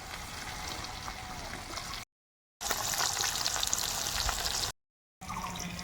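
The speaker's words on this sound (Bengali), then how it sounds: "মাছটা তো ভাজতে বসিয়ে দিয়েছি" Katla fish pieces frying in hot oil in a home kitchen give a steady, close bubbling sizzle, broken by two short gaps, with no talk.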